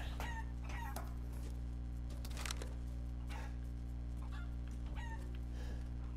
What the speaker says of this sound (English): Well, it's a fucking rooster.